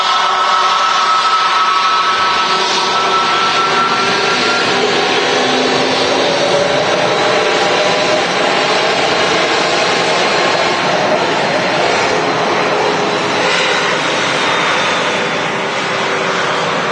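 An airplane at Manchester Airport gives off a sustained, loud jet engine roar for the full stretch, broad and steady with slowly shifting tones as it moves on the ground or climbs nearby.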